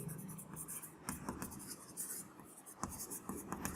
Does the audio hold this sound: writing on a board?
yes